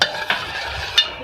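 A spoon stirs sugar into a boiling mixture for a bread dessert, with a few distinct scraping strokes against the pot over a steady bubbling simmer.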